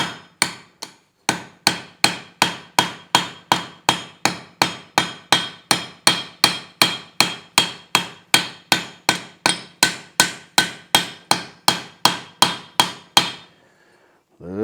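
A hammer strikes rivet heads to mushroom them while a logdog is forged, about thirty sharp, evenly spaced metallic blows in a fast steady rhythm, close and loud, stopping just before the end.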